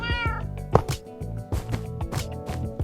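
A cat in the Minecraft video game meows several times in quick succession, each call short, close and clear over a quiet background, with no speech.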